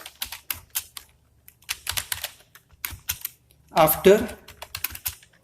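Computer keyboard keys clack in quick irregular bursts, close and crisp, as code is typed, and someone speaks briefly partway through.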